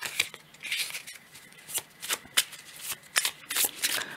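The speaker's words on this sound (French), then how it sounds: "Alors, on va tirer une carte" Oracle cards from a Wild Unknown Animal Spirit Deck being shuffled by hand, a close series of quick riffling flutters and soft slaps in uneven bursts, without speech.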